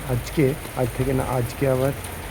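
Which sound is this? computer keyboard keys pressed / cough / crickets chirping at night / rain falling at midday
rain falling at midday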